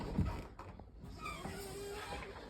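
Dated lift doors on the 4th floor of a Tenby hotel creak open, a strained mechanical groan with scraping tones running for a couple of seconds at moderate loudness, without talk.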